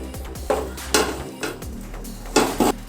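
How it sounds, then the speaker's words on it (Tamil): Coconut burfi mixture being scraped into a ghee-greased tray, with a few metallic clanks and scrapes of a spoon against the tray in an uneven rhythm. "இந்த மாதிரி ட்ரேயில் கொஞ்சம் நெய் தடவிட்டு இப்போ நம்ம தேங்காய் சக்கனதை இதில் போட்டுடலாம்"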